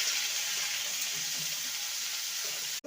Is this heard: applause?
no